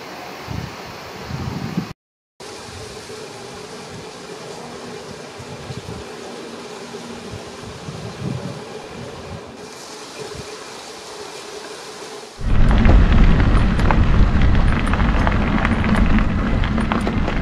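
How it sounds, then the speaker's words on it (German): Strong east wind blows across a lake shore, a steady broadband rush that surges much louder and rougher near the end, with no one speaking. "Der Wind kommt von Osten."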